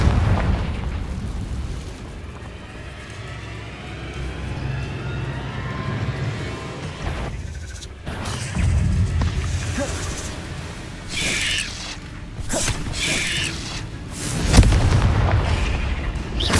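Confringo fire spells in Hogwarts Legacy burst repeatedly as loud booming blasts over a rumbling, noisy background, with a strong hit near the end.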